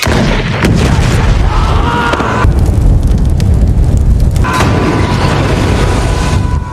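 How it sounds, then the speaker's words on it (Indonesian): Rifle gunshots and a festival balloon bursting into fire make a loud, continuous roaring blast, with a few sharp cracks cutting through the dense rumble. "Jessica langsung beraksi dengan bedil yang ia temukan."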